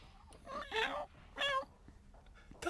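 A voice imitates a cat, giving two drawn-out, wavering meow-like cries over a quiet background, with a faint short squeak at the end.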